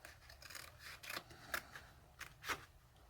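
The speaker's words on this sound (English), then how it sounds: "I'm going to have to cut a little bit of this down" Scissors snip through a layered paper card base in a handful of separate close cuts, each a short crisp rasp with brief quiet gaps between them.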